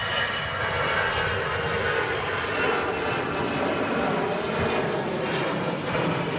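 An airliner, a Hainan Airlines Airbus A330 bound for Beijing, lines up for departure on runway 23 right at Manchester Airport. Its engines give a steady, loud, broadband roar that holds unbroken for the whole stretch with no talk over it.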